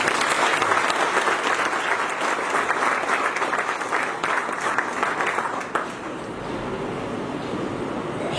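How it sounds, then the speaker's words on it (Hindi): Audience applause at a religious saints' gathering at a Brahma Kumaris service centre, loud and sustained from a large crowd clapping together before it softens and tapers near the end. "सबसे पहले उसके सम्मान में सब लोग जोरदार ताली बजाएं"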